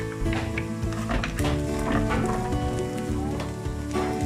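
Chopped garlic, four cloves, tipped into a pan of softened frying onions, giving a busy crackling sizzle throughout with scattered sharp pops and light pan clatter, close and fairly loud.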